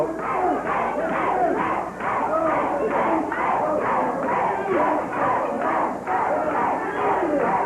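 A packed wrestling arena crowd roars and chants in a rhythmic, pulsing cheer during a tag match, loud and continuous with a commentator's voice mixed under the noise.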